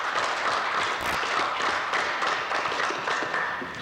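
Applause from the audience at a small-town city council meeting, a soft, steady patter of clapping that continues evenly for a few seconds at a modest distance.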